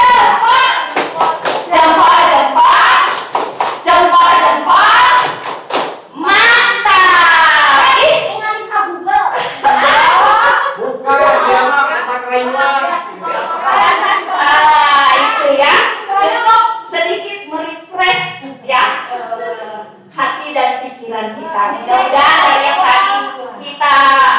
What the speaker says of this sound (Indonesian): Kasih tepuk semangat dulu.